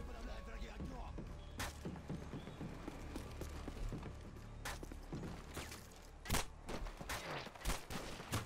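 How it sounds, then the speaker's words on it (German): Gunfire in Call of Duty: Modern Warfare 2 comes as scattered sharp shots and bursts over a busy battle background, quite faint overall, with people talking throughout. "Ich hatte gesehen, woher die Schüsse kamen"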